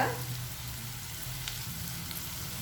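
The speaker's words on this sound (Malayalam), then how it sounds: "ഒരു ലൈറ്റ് ഗോൾഡൻ കളർ ആവുന്ന വരെ നമുക്ക് വഴറ്റണം" Shallots and curry leaves sauté in hot oil in a pan, a steady close sizzle and crackle running throughout with occasional stirring, no voices.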